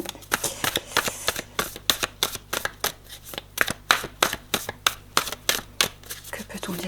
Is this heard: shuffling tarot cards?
yes